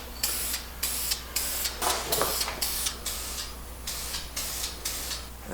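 A spray can lays a second coat of bed liner onto van side panels with loud, hissing bursts of about half a second each, repeated in a steady rhythm and close to the microphone.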